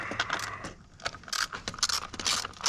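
Bolts being tightened on a Volant cold air intake on a Ford Expedition, with close metallic scraping, ratcheting and clinking in irregular bursts, no talking.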